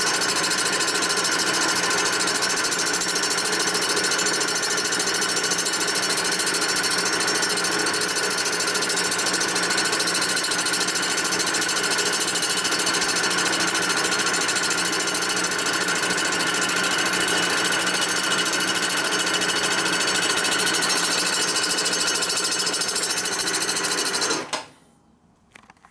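A steady, loud mechanical grinding drone with a high squealing edge from a cutter rubbing while machining a 1958 or 1960 Harley-Davidson Panhead engine head runs continuously, then cuts off abruptly near the end.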